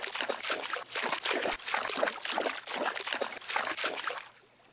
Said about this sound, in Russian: Вот она речка.